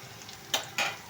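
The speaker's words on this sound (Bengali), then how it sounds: "তো ভালো করে আমি পেঁয়াজটাকে একটু ব্রাউন কালার করে তারপরে হচ্ছে বাদামি কালার আর কি" Onions fry in oil for Bengali hilsa fish pulao, browning in the pan; two short sizzling stirs rise over a quiet background of frying.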